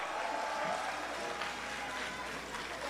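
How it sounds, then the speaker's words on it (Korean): An outdoor campaign rally crowd in Busan claps steadily in a dense, unbroken roar of many hands, with faint crowd noise mixed in throughout the short burst. "다시 한번 큰 박수 부탁드립니다"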